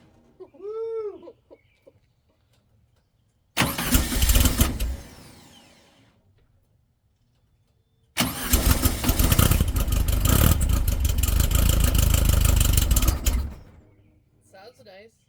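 A fresh car engine cranks in two loud bursts, a short one that fades and then a longer, steady churning run of several seconds, with brief vocal sounds and quiet gaps before and between.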